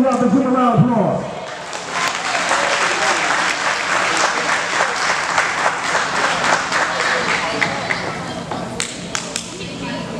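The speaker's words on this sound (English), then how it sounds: "give a round of applause." A crowd at a Williamsburg County recreation banquet breaks into a round of applause right after a brief spoken introduction, with dense, steady clapping filling the room for about nine seconds.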